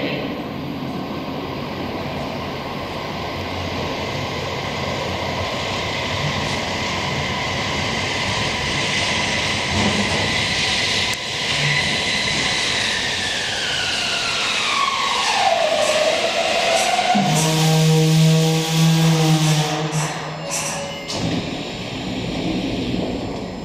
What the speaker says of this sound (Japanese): The train bound for Shin-Nagata will soon arrive at track number 2.